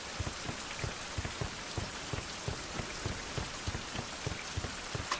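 Rain falls in the survival video game Survival: Fountain of Youth, a steady patter of drops striking surfaces with soft repeated taps at a moderate, even level.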